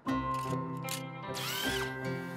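Wonder Drill 2200 power drill in a cartoon whirring continuously at close range, with a rising whine in the middle and a steady motor hum throughout.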